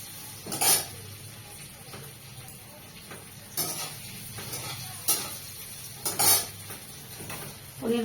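Paneer frying in a little oil in a pan gives a low steady sizzle, with a few sharp clinks and scrapes of a utensil against the pan at scattered moments.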